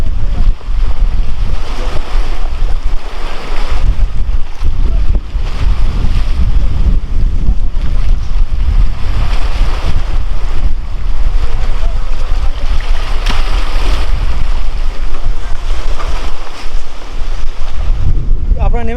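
Storm waves slap against a boat out on the Raimangal river in the Sundarbans. Heavy wind roars into the microphone the whole time, and loud, constant water noise and buffeting go on without a break.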